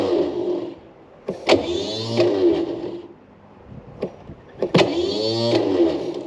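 A starter motor cranks the engine of an abandoned military vehicle in two short whirring bursts with a pause between, rising in pitch, with small mechanical clicks in the gap and no catch.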